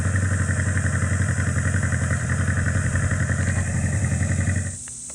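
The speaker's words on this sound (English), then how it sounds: "Why not put some motorcycle sounds on this and take advantage of that bass, right?" A motorcycle engine sound effect played through the speaker of an electric unicycle, a steady, bass-heavy idling putter with a fast regular pulse that continues evenly, then cuts off abruptly near the end.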